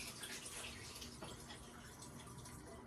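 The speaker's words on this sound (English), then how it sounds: "I'm gonna drain this water" Water pours steadily out of a pot of boiled potatoes into a sink, a continuous soft rushing splash that holds at an even level throughout.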